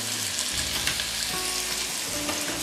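Onions and carrots fry in a hot pan with a loud, continuous close-up sizzle and crackle, a faint low hum underneath, and no talking.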